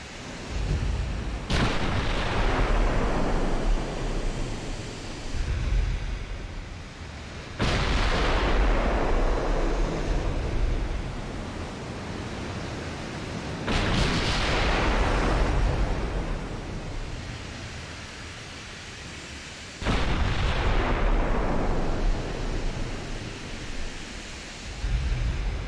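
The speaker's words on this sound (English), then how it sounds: "It's time to open up and get more of these beautiful guns on target here." Large 16 to 18-inch naval guns firing in the naval warfare game Ultimate Admiral, four massive booming salvos several seconds apart, each a loud sharp blast followed by a long roaring rumble; no talking.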